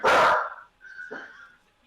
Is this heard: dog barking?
yes